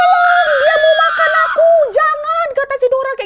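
A narrator's voice imitates a girl's scream in a horror tale, a loud high wavering shriek held for over a second, then breaking into shorter yelping cries.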